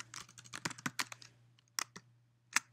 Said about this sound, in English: I'm going to just go and type.